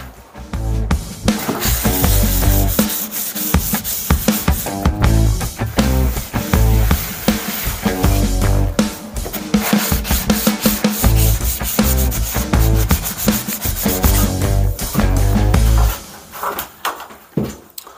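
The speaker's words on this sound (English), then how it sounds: "I just got finished sanding the walls down." Skim-coated walls are sanded by hand with loud, close, rhythmic scraping strokes repeating steadily throughout, with short gaps between bursts and no talking.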